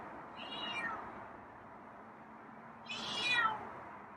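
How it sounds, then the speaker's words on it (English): A feral cat meows loudly twice outdoors near a window, two long drawn-out calls separated by a short pause, with no talking. "that's a strong meow"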